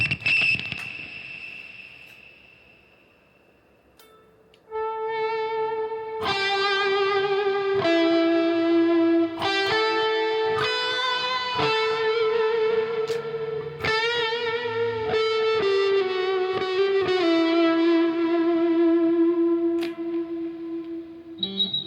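Electric guitar with a single coil pickup run through distortion, starting with a faint high whine before loud driven notes and chords ring out with squealing overtones, played alone without talk.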